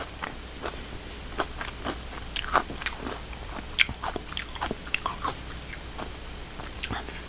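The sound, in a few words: biting and chewing cheesy fried chicken with cheese sauce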